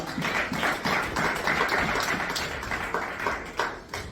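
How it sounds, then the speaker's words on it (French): Congregation clapping in church, a dense, continuous patter of many hands throughout, steady and fairly close, with no talking over it. "Acclamons encore très fort pour ce Dieu-là."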